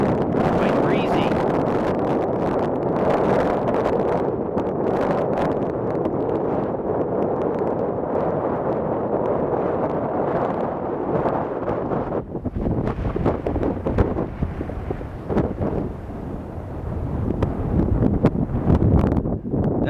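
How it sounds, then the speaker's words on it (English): Strong, breezy wind blusters across the microphone at Evolution Lake in Darwin Canyon, a continuous roaring rush that stays loud throughout and shifts in intensity without any break. "Quite breezy."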